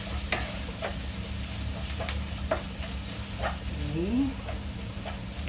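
Shrimp curry masala stirred and frying in a pan, a constant close sizzle with periodic scraping strokes of the utensil, while a voice speaks briefly.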